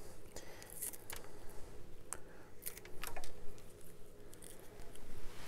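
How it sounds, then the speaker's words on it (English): Scissors snip the green tops of indoor seedlings in a few quick, light cuts, faint and close against a soft background hiss, with small rustles of leaves between snips. "I'm just going to cut back these a little bit more today"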